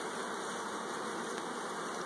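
Honeybees crowding brood frames while a first-year nuc is split, a steady dense buzzing hum that stays even and fairly faint throughout, with no voices.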